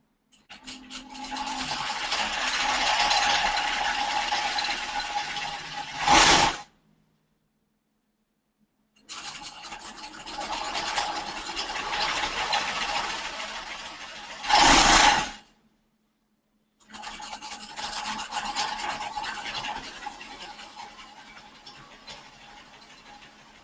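A sewing machine stitches a ballet bodice on a long stitch in three extended runs of a steady, close mechanical whir, separated by short pauses.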